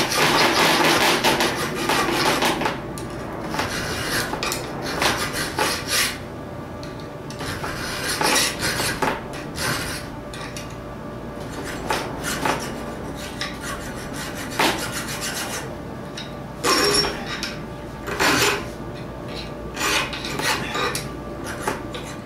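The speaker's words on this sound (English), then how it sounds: "Here I'm using my file guide and files to square up the shoulders and darts." Hand files, guided by a file guide, rasp across steel knife blades to square the shoulders, making steady back-and-forth strokes up close in repeated bursts with short pauses.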